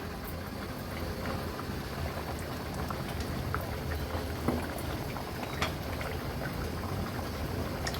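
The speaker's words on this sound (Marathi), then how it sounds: "हाय फ्लेमवर छान उकळी पण आली आहे कालवनाला" A crab curry bubbles at a rolling boil over a high flame, a dense even patter of bursting bubbles with a few louder pops, close and steady with no talk.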